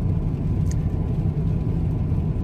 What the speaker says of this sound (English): After this car goes by and the brights go back on